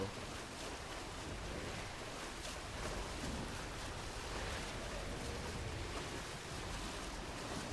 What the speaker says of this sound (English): The splashing water is making noise.